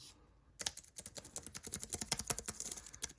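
Typing on a Logitech MX Keys keyboard with Apple-layout keys: a quick, steady run of close, crisp key clicks that starts after a short pause and continues through to the end.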